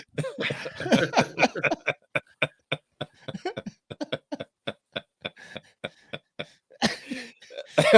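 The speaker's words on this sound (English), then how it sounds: "I'm just coughing. I can't stop this." A long fit of repeated, rhythmic coughing, dozens of short harsh bursts close to the microphone, with a voice and laughter around the edges.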